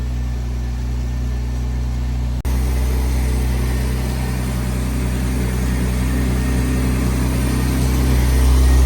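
A BMW E36 M3, European spec, idles steadily with a droning engine hum. After a sharp click the tone rises and holds at a higher, even pitch, swelling slightly toward the end with no voices.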